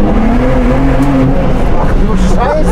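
Turbocharged BMW 1 Series M Coupe engine revving hard on the road, a loud, continuous roar with rising pitch near the end and a voice talking over it.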